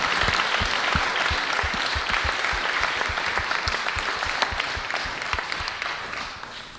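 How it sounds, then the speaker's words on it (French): A festival audience applauds a speaker taking the stage, a dense roomful of clapping with individual sharp claps standing out close by, gradually thinning and fading toward the end. "je vous serais gré de l'applaudir un petit peu et de lui faire une place sur scène"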